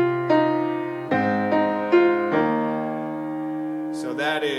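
A short right-hand piano riff of single notes and chords rings out close and clear at a moderate pace, ending with a brief burst of background noise.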